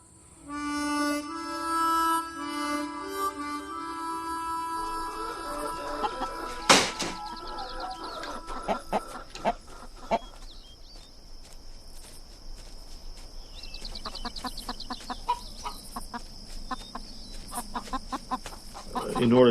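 Chickens cluck in a farmyard with a rooster among them, scattered clucks rising over a constant chirping of insects, with a sharp bird call partway through.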